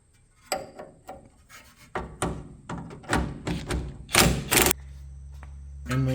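Mechanic working on sway bar end link bushings of a Lincoln Continental: a series of rubbing, thumping and rasping knocks, irregular and close, with a steady low mechanical hum near the end.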